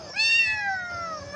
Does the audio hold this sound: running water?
no